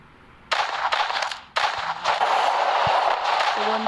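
Grenade explosion in the shooting game Free Fire: a sudden loud blast followed by a second burst and sustained roaring rumble, close and dominant throughout.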